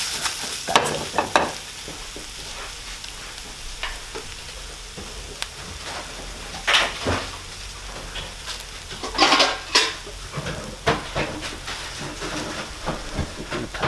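Eggs fry and get stirred in a pan, giving a steady close sizzle broken by repeated scraping and stirring bursts that swell louder now and then.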